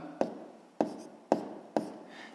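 Pen strokes writing down answers to a sixth-grade math exercise, four short separate taps or scratches spaced about half a second apart, close and fairly quiet, with no voices.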